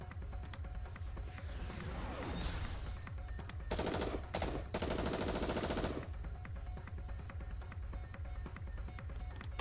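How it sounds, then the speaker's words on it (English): Wild, sustained gunfire from Dorothy in Goddess of Victory: Nikke, a dense fusillade of rapid shots over a steady low rumble, swelling into louder bursts around the middle before settling back. "Dorothy fires wildly"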